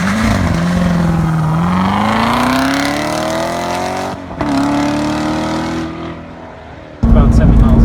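A car accelerates at full throttle on a proving-ground test track after simulating a corner exit, with the engine roaring and rising in pitch, briefly easing off, then pulling hard again, loud and close.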